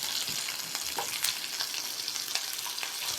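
Garlic, dried chillies and onion sizzle steadily in a hot pan for a ridge gourd chutney, with a continuous close crackle and occasional stirring scrapes, no voices.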